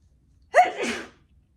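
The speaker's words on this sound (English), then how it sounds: "I feel a sneeze coming." A single sharp sneeze, sudden and close, with a breathy trailing release in an otherwise quiet setting.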